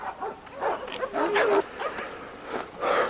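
Red dogs with black masks in a yard bark and yip in short, uneven bursts, fairly close, with whimpering in between, with no talking over them.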